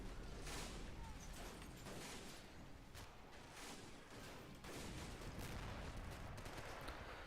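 Repeated heavy booms of 105mm cannon fire with scattered gunshots in a busy modded video game tournament battle, loud and continuous with rumbling bursts.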